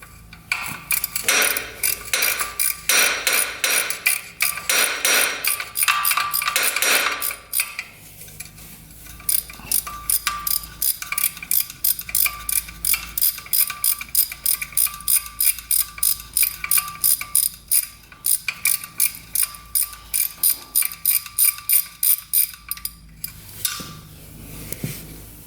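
A ratchet wrench working a starter bolt loose on a UTV clicks in rapid repeated bursts, close and crisp, with short pauses between runs of ratcheting.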